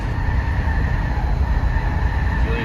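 A scrap van drives at about 35 mph, its tires squealing under a loud, continuous road rumble with a thin, high whine running on top throughout.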